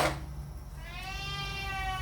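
A cat in a home kitchen lets out one drawn-out, rising meow after a brief clatter, fairly close against a low background rumble.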